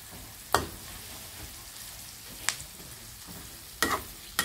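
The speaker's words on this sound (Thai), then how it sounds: "เดี๋ยวเราเอาลงไ ปทอดอีกสักหน่อยนึง ให้หนังเขาแตกป๊อกแป๊กป๊อกแป๊ก" Pork belly deep-frying in hot oil as the skin crackles, a steady close sizzle broken by a few sharp pops and stirring clatters.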